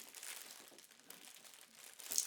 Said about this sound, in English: let's go ahead and remove the plastic packaging